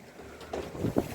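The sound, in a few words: gust of wind while sailing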